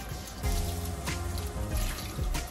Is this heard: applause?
no